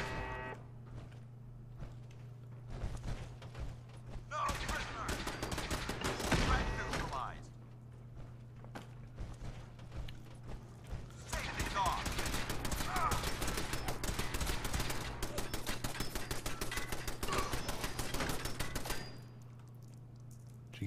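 Automated turrets open fire in Fallout 4, bursts of rapid gunfire coming in two long stretches with a brief lull between, loud and dense over a steady low game hum, with occasional talk.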